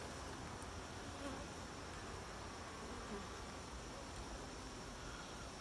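Honey bees swarm over a hive whose honey supers are full, making a continuous even buzz that holds at a low level throughout. Nobody speaks over it.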